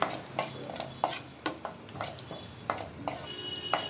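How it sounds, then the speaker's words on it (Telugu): Mustard seeds, cumin and dried red chillies spluttering in hot oil in a kadai, sharp separate pops and crackles bursting out every half second or so, close and fairly loud. "ఆవాలు చిట్టపట్టలాడిన తర్వాత"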